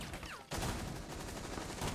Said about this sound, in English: He exchanges gunfire